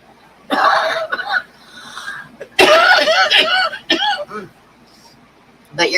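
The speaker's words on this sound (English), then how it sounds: "Your coughing's scaring them" Several harsh, close coughs in short bursts, with brief pauses between and a final cough at the end.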